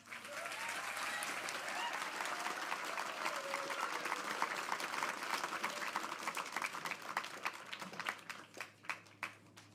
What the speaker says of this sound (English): Please give them the biggest round of applause.